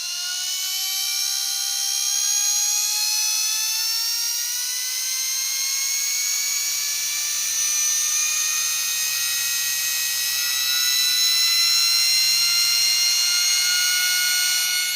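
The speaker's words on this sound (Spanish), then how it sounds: "a medida que yo giro el potenciómetro aumenta el régimen del motor" A small DC motor on a speed controller whines as a potentiometer is turned, its high-pitched tone rising steadily in pitch over the whole stretch, loud and close, with no talk.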